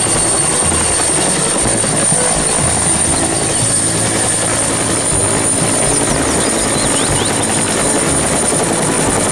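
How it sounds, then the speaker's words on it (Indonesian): A helicopter drones steadily and loudly, its rotor chop and engine whine filling the whole stretch without pause. "ini helikopter"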